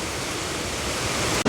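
Running water from a Wallace drinking fountain on a Paris street, a steady close splashing hiss that ends with a brief break at the very end.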